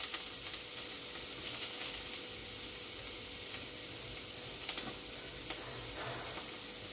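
Chopped garlic and ginger sizzle in hot oil, a close, continuous crackling hiss with a few small pops and stirring scrapes, no talk.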